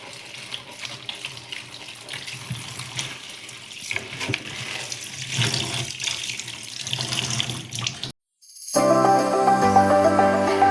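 Water runs steadily from a tap into a pot to boil herbs for a hair treatment. The pouring is close and continuous for about eight seconds, then a brief silence gives way to music.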